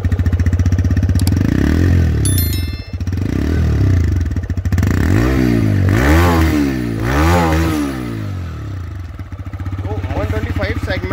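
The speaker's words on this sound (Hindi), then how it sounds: "इतना प्यारा एग्जॉस्ट नोट दिया हुआ है" A TVS Raider 125 motorcycle revs up close, its exhaust note climbing and falling in several throttle blips over a steady idle. A voice can be heard talking over the engine.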